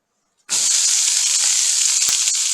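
Onions hit a hot pan with a sudden loud sizzle that continues as a steady, close hissing fry.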